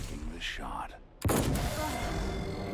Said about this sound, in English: There goes the explosion.